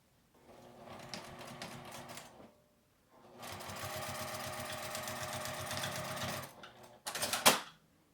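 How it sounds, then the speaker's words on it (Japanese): A sewing machine stitches the folded edge of a small zipper keyring pouch in two close, rapid bursts of mechanical whirring, separated by a short pause and followed by a brief clatter. "返し口の端のところは1センチ内側に折って 端を縫っておきます。"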